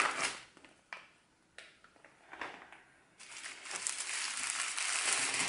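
Plastic bag of diamond painting supplies being opened, a few sharp crinkles and rustles separated by pauses, then continuous close crinkling and crackling of plastic, no speech.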